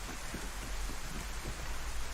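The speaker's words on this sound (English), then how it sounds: "Damn, that's hell of a rain." Heavy rain falls in the DayZ video game, a faint, even wash of hiss with a low rumble underneath and no breaks, heard alone without voices.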